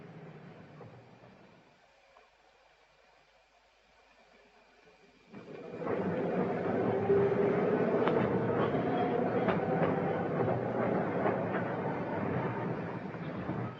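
A tram rumbles along the rails, quiet at first, then swelling into a steady, loud running noise with a rising whine and rhythmic clatter from the track.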